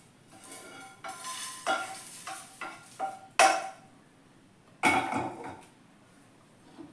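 Food is scooped from a pan onto a plate while making homemade sambar powder, giving a series of close metallic scrapes and clinks of spoon against cookware, then a pause and a final clatter.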